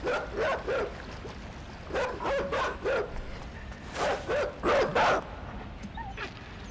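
Dogs in a video game bark in repeated bursts, short yips and barks in clusters of two to four with gaps between, moderately loud and alone with no talking.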